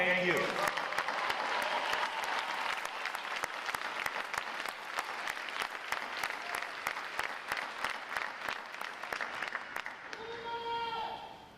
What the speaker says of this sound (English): a round of applause for each and every one of you